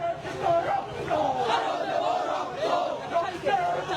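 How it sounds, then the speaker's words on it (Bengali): BUET students chant slogans on a protest march, a loud crowd of voices rising and falling in rhythmic shouts that carry on without pause. "বিভিন্ন স্লোগানের মাধ্যমে সেই বিক্ষোভ মিছিলটি করছেন বুয়েট শিক্ষার্থীরা"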